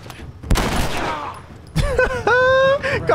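Video game gunfire in The Last of Us Remastered: two sharp, loud shots ring out about a second apart, followed by a voice talking.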